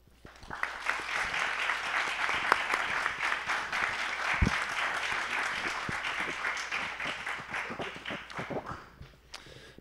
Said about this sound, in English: Please join me one more round of applause for our panelists.